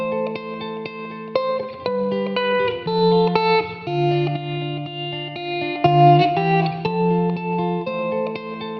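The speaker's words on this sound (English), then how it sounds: "So I have found this lovely guitar sample with an electric guitar" Clean electric guitar notes ring out in a slow melodic phrase, washed in reverb with long sustained tones and no voices.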